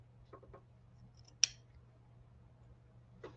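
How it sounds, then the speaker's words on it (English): Hoop scissors trimming fabric close to tack-down stitching on a quilt block, a few soft snips and one crisp metallic snap, close and quiet with a faint background hum. "I'm going to use our hoop scissors again, and I am going to trim a scant 1/4 inch from the tack down stitching"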